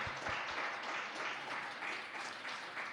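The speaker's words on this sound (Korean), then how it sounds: "우리 축복의 박수 할까요?" A church congregation at a Friday leaders' Bible study gives a short round of applause in thanks, the clapping steady and somewhat distant, filling the moment without voices.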